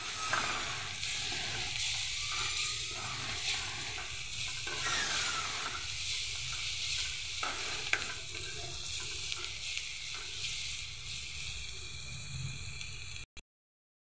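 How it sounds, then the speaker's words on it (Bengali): Ground chili and coriander spices fry in a pan with a constant crackling sizzle and occasional stirring scrapes, close and fairly quiet, lasting about thirteen seconds before cutting off abruptly. "আমার মশলাটা ভাজা হয়ে গেছে"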